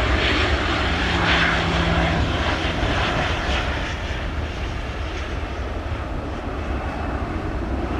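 A jet airliner's engines roar steadily and loud at Sangster International Airport in Montego Bay, Jamaica, a broad continuous rumble and hiss holding for several seconds with no talk over it.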